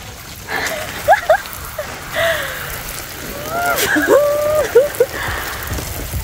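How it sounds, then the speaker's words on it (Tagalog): Shower water sprays in a steady hiss, with a few short squeaky chirps rising above it now and then, in a hut. "bubuhayin ko na po ang shower"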